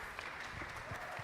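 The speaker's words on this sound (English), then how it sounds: "keep clapping, please" Audience clapping at a West African ministry training centre gathering, a brief, fairly quiet patter of hands with a few low thumps mixed in.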